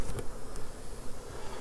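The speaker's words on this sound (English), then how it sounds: "run these bees out of this top box" Honey bees buzz around stacked hive boxes, a dense, continuous drone close by, with single bees briefly flying past the microphone.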